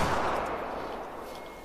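Gunshot in the hunting video game theHunter Call of the Wild, a single loud booming report with a long fading rumble, heard alone.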